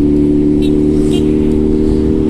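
A Suzuki B-King motorcycle engine hums loud and close in a steady, even drone with faint high whines drifting over it, no speech heard.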